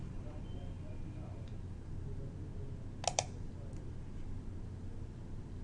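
A computer mouse gives a quick double click, crisp and close, rising briefly over a quiet room hiss.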